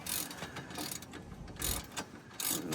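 Wrench ratcheting as bolts are tightened back down on a Vanagon's front brake and suspension arm, quiet clicking bursts that come and go over a few seconds.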